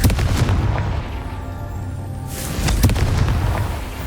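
Blasting Confringo spell explosions from a Hogwarts Legacy battle, heavy booming blasts with a sharp burst near the end over rumbling game noise, no talk.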